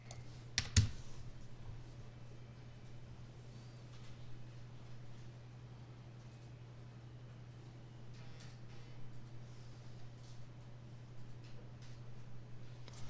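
Computer keyboard typing and clicking during Mastercam 2024 CAD/CAM work. Soft, scattered keystrokes come at an irregular pace over a steady low electrical hum, with one louder click near the start and no talking.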